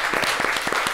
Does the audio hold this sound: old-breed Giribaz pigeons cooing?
no